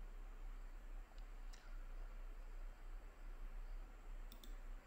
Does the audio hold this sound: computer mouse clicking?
yes